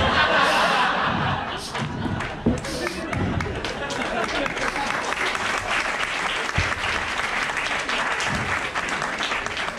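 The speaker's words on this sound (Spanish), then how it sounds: "¿Cómo aplauden la pendejada, no?" Applause from a comedy club audience at a Peruvian stand-up show, a dense sustained clatter of clapping that fills the whole stretch, with scattered laughter and a few thumps mixed in.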